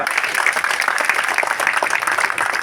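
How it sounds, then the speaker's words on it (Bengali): A crowd at an Awami League political rally in Narayanganj claps in a dense, continuous burst of applause for a speaker, steady and fairly loud with a few voices underneath. "আসুন ওকে একটা করতালির মাধ্যমে অভিনন্দন"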